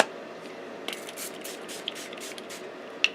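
Spray stain is misted from a pump bottle onto a glass media mat, a series of soft hissing bursts over a faint steady background, with a couple of small clicks.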